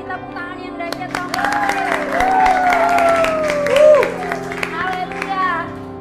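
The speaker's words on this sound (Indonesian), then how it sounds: "Kita kasih tepuk tangan yang dahsyat dong." A church congregation at a teen worship service claps steadily throughout, the applause running under sustained musical tones and a wavering voice-like melody, swelling slightly near the end.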